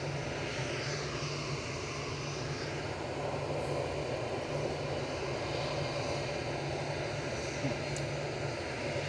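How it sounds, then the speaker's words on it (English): A Gulf Air Boeing 787-9 Dreamliner lands at Manchester, its engines a faint, steady distant rumble with a low hum, continuous throughout. "a 787-9 Dreamliner for Gulf Air, operating Flight 5 from Bahrain"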